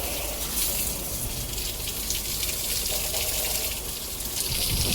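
Water sprinklers spraying steadily inside a cattle shed on a farm during cleaning, a dense continuous hiss and splash at close range, even in level throughout with no voices.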